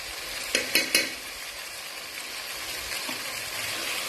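Chana dal tadka is stirred in a sizzling pan, with a few sharp scraping clacks of the spoon early on over a steady frying hiss. No one speaks.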